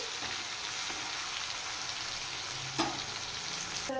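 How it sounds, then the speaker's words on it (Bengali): Onions frying in a pan as part of a katla fish curry, with a steady close hiss and sizzle throughout and a faint stir or clink near the end. "এবার পেঁয়াজগুলো একটু লাল করে ফ্রাই করে নেব।"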